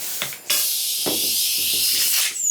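A hand pump forces air into a latex party balloon, giving a few sharp hissing strokes of air, close and fairly loud, with no talking.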